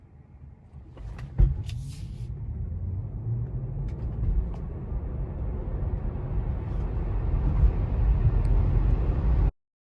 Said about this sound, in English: Now we're going to try chill mode, which gives you a less abrupt or immediate acceleration.